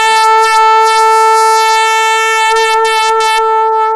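One steady, bright trumpet tone, high B played with the second valve, held loud and unwavering for four seconds, no other sounds.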